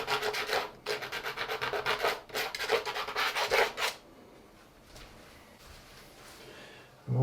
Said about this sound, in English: Just going to get a bit more scraping along here.